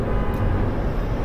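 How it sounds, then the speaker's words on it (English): A car horn honking in road traffic, heard from inside a car over a steady rumble of engine and road noise, loud and continuous through the short moment. "Who's honking?"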